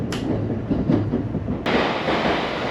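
A train pulls into Kyoto station on the Tokaido line, its steady rail rumble and wheel clatter continuous and fairly loud, with a brief sharp click partway through, and no voices.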